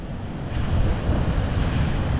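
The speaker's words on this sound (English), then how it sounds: "So this is the Atlantic Ocean." Atlantic Ocean surf breaks on a rough beach in the Outer Hebrides, a loud, steady wash of waves mixed with heavy wind buffeting the microphone, continuous with no pauses.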